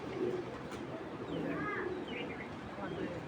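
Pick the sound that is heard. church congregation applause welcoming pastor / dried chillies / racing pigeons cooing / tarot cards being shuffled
racing pigeons cooing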